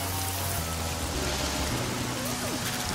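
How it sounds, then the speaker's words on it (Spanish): Light rain patters steadily on outdoor surfaces in Chile as a continuous dense hiss, with a low rumble and faint background noise running underneath throughout. "Mm, están cayendo unas gotitas."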